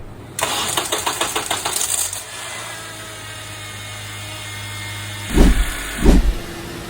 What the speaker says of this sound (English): Go ahead and crank the engine.